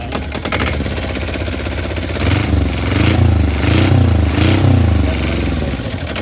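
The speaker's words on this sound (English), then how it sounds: "should be able to hear the engine rising slightly as the gas does" A Honda Superdream motorcycle fitted with a diesel engine runs with a steady clattering idle, then rises in pitch and loudness in repeated pulses as the throttle opens, heard close up with no talk.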